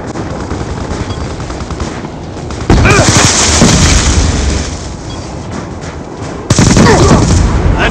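Enemy XM-32 grenade launcher fire in Black Ops 2 lands as two loud, sudden blasts of noise over ongoing game sounds, with voices heard in between.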